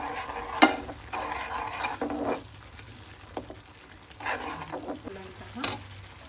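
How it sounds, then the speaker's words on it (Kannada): Onion and turmeric mixture stirred in a frying pan, a few close spatula scrapes and taps over a low sizzle, coming in short bursts with quieter pauses between. "ಈಗ ಚೆನ್ನಾಗಿ ಮಿಕ್ಸ್ ಮಾಡ್ಕೊಳ್ಳಿ"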